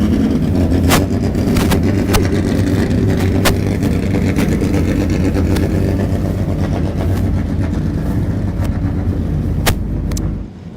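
Historic racing cars at Donington circuit roar past close by, a dense continuous engine rumble with sharp cracks and pops repeating throughout, loud and unbroken until it eases slightly at the end.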